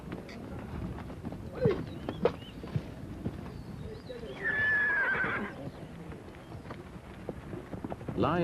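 An army horse gives a loud whinnying neigh in the middle of an outdoor scene, with hoof clip-clops and wind noise before it and a brief snort or second call at the end.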